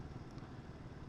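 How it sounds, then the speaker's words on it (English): Royal Enfield Guerrilla 450 motorcycle engine braking on an untreated icy road, a steady low engine drone with faint clatter, close and continuous, no talk. "I'll knock it down again and let the engine brake"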